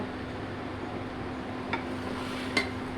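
Fried rice being stirred in a pan, a soft steady sizzle with two faint scraping clinks of the utensil against the pan, quiet and close.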